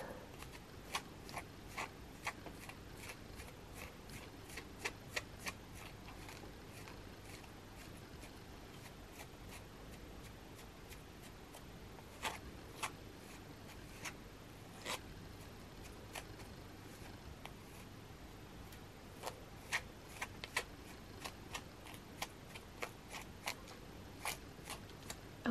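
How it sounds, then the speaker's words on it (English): A plastic Chibi toy doll's wild hair is brushed in a quiet ASMR setting, giving soft continuous swishing with a run of crisp, close ticking strokes scattered throughout and no talking. "I think we need to brush her hair out because"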